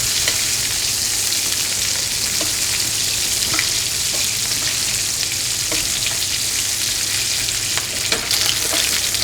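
Fish fries in hot butter in a pan with a loud, dense, continuous sizzle and faint crackles throughout, close up and with no talking.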